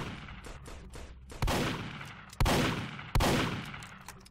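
Gunshots in the Roblox video game: a few quiet rapid taps, then three loud, sharp blasts about a second apart, each trailing off into a decaying echo.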